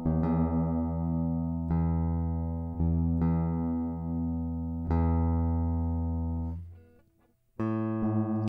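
A guitar is tuned by ear against a 440 Hz reference tone, sustained plucked strings ringing and slowly decaying, re-struck several times with pitch adjustments between notes, no speech.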